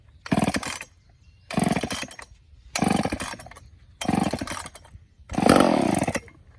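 A vintage Poulan Solo chainsaw is pull-started five times in a row, each pull bringing a brief burst of sputtering two-stroke engine sound that dies away between attempts; the final burst runs slightly longer.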